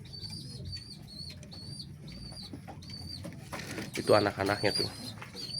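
Homing pigeons in a loft give soft, faint cooing and rustling, joined near the end by a brief burst of wing flapping, with a person talking quietly nearby.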